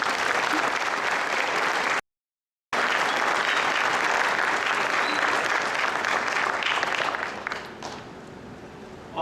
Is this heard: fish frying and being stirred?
no